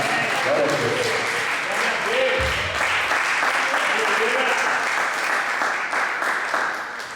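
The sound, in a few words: church congregation applause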